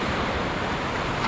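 Ocean waves at high tide wash in with a broad, steady roar of surf and foam, loud and continuous with no voices.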